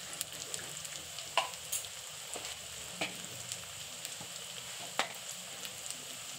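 Chopped onions with salt frying in a pan for an egg curry, a soft steady sizzle with scattered light clicks of stirring, fairly quiet and close, no one talking.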